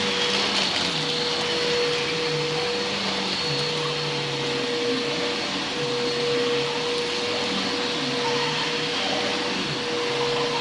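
A Bissell Powerforce upright vacuum cleaner, rebuilt with upgraded bearings, runs steadily and loudly close by with a constant motor whine and airflow roar, no voices.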